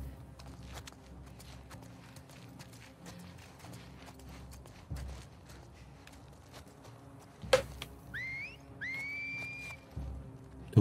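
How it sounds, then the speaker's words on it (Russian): Enemies whistling to each other in The Last of Us Part II: two rising signal whistles near the end, following scattered hoof-like clops and footsteps over a low rumble, with a sharp thump midway. "Вы достали свистеть уже, а?"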